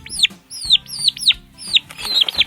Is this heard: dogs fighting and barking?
no